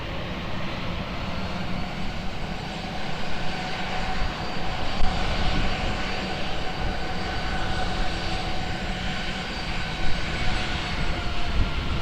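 An airplane engine drones at Lisbon Airport, a sustained roar with faint tonal whine layered over broadband rumble, fairly loud and steady with small swells, no voices.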